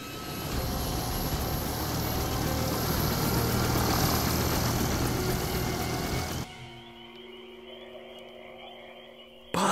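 A steady, loud rotor-and-engine drone of a cartoon helicopter for several seconds, then it cuts abruptly to a much quieter hum.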